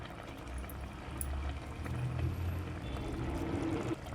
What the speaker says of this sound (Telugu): కొంచెం కొత్తిమీర వేసుకొని ఒక 2 మినిట్స్ సిమ్లో పెట్టి ఉడకనివ్వాలి